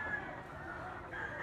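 An eight-month-old yellow-leg breeding rooster crows in a steady, drawn-out call that runs through the whole short stretch, fairly close and moderately loud, with outdoor background noise around it.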